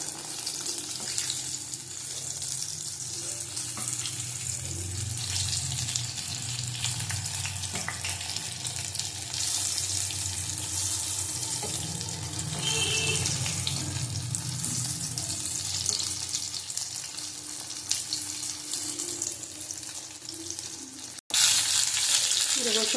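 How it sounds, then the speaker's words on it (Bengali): Green banana pieces frying in hot oil for a banana and potato curry, a dense continuous sizzle and crackle close up that runs for about twenty seconds before a brief cut, with no speech. "ভালো করে ভেজে নেবো এটা"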